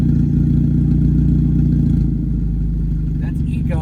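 A Hyundai Elantra N fitted with a Borla ATAK exhaust idles in sport mode, a loud close low engine burble with steady pulsing, ending with a brief clatter.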